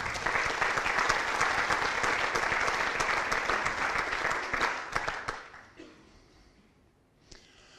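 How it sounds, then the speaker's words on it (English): Dense applause from an audience at an athletic Hall of Fame induction ceremony, steady and loud for about five seconds before thinning into scattered claps and fading to near quiet. "Please give them a round of applause"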